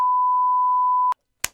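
A single steady censor bleep tone holds loud and alone for about a second, then cuts off, followed by a brief sharp click.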